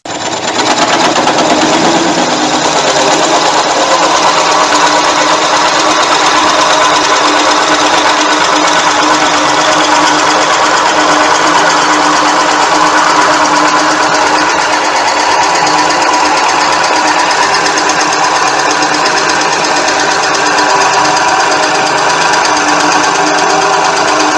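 Steady, continuous mechanical whirring and buzzing of a drill boring into a spalted sycamore vase blank on a lathe, loud and close, running without pause.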